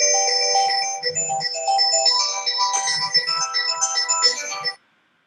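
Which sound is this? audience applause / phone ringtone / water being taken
phone ringtone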